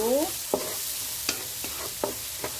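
Ingredients for a simple potato curry sauté in a pan with a steady hiss, punctuated by a few distinct clicks and taps of a utensil spaced about half a second apart.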